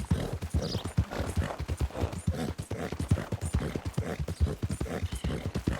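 Horse hooves clip-clop in a fast, steady galloping rhythm in Red Dead Redemption 2, close and continuous throughout, with no voices.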